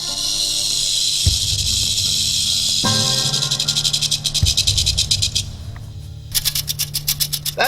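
A rattlesnake's rattle as used as a film sound effect, a loud close buzzing rattle that runs continuously, then breaks into rapid pulsing bursts, pauses briefly and resumes in a fast stuttering rhythm.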